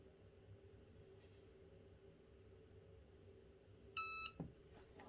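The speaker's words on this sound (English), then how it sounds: "and it will beep once it is done." A heat press signals it is done with a single short electronic beep, a clear tonal bleep standing out over a quiet room hum, used for applying HTV vinyl to dog handkerchiefs.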